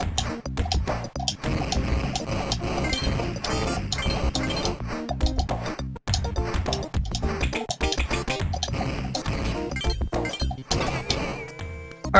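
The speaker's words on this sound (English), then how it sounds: "that noise, that bing, wing, wing, wing, wing noise you just heard" A ringing electronic bing repeats in a city-themed stage of the platformer Kid Chameleon, tucked among busy game music and clinking, crashing effects, with its tone standing out most near the end.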